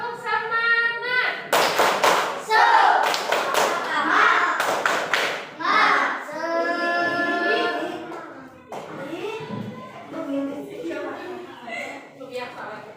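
Children clap in rhythm in quick bursts of sharp claps, mixed with loud chanting young voices and talk throughout.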